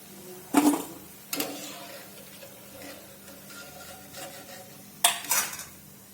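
Crispy fried snack made from raw potato tipped onto a serving plate, producing a few sharp, close clattering rattles separated by quieter stretches.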